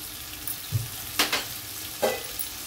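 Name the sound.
stirring and frying biryani masala with onions in a pan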